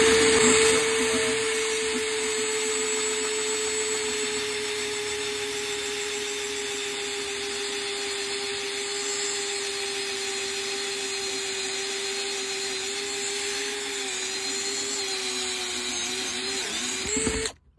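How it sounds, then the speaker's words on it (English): A loud cordless drill motor drones steadily for many seconds while drilling a hole, its pitch sagging slightly near the end before it stops abruptly. "I gotta recharge the drill. The drill's charged"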